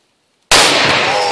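Tannerite detonates against a metal filing cabinet after a rifle shot: after half a second of silence, one sudden, very loud broadband blast strikes and its roar sustains without fading to the end.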